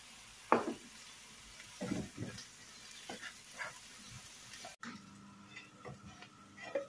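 Onions sizzling softly in a pan, with intermittent crackles and a few clicks of utensils, a quiet frying texture and no voices.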